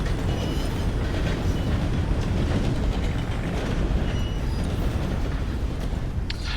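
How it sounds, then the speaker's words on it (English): Train rolling past in Red Dead Redemption 2, a continuous broad rumbling roar with faint clattering, steady and fairly loud throughout with no voices. "I kind of love trains."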